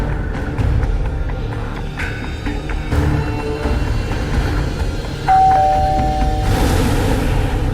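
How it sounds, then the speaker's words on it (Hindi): A doorbell rings briefly in a Hindi Crime Patrol TV crime drama, a short electronic chime partly buried under loud, dense background music. "मैं डोरबेल बजाता हूँ"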